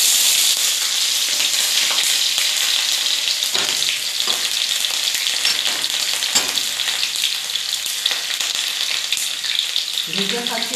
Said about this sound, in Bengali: আর পিঁয়াজ তেলত দিও